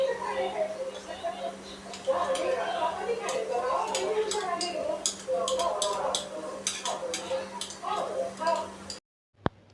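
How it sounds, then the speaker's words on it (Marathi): A masher clicks and taps against a kadhai while fried capsicum, tomato and onion are smashed for pav bhaji, a quick irregular run of metallic ticks over a low hum, with a voice talking throughout. "कढईमधले जी काही शिमला मिरची टोमॅटो आणि कांदा फ्राय झालेला होता भाजी तर त्याला मी स्मॅशरने स्मॅश करून घेणार आहे"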